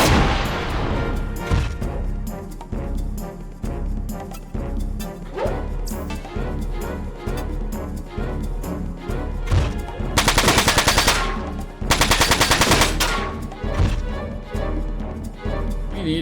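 Machine-gun fire from the Front Mission 4 video game rattles in dense, loud bursts of repeated shots for about sixteen seconds, with heavy impacts and two harsher, louder stretches near the end.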